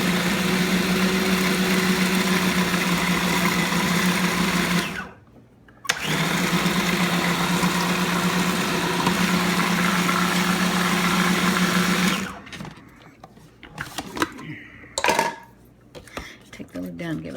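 An electric mixer whirs loudly and steadily while beating sponge cake batter with eggs, stopping briefly for a second and then running again, followed by clinks and scraping of a bowl and lid.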